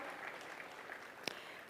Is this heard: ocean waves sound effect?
no